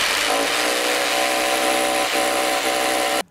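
A power drill bores into an aerated concrete wall, a loud steady whirring grind that runs unbroken for about three seconds before stopping abruptly.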